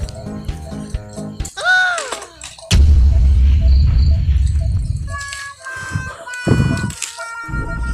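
Chickens cluck and a rooster crows at a rural fishing spot, with sharp bangs and a loud rumbling burst in between, fowl calls near and clear throughout.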